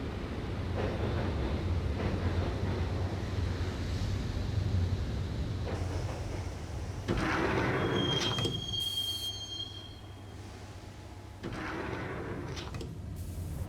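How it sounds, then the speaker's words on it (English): Train rolling along in the video game Max Payne, with steady rumble and clatter, shrill wheel squeals rising in the middle, loud and close throughout. "the train doors had already shut behind me, and I was in for the ride"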